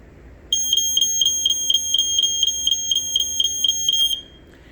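A Jameson Code One CD-1 smoke alarm under test sounds a steady train of shrill, evenly spaced beeps for about three and a half seconds, loud and close, with no one talking.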